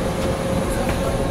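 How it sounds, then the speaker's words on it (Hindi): A MEMU train runs on a parallel track beside a moving express departing Rajendra Nagar, a loud continuous rail rumble and wheel clatter heard from inside the carriage. "ये MEMU ट्रेन भी हमारे साथ पैरेलल रेस लगा रही है"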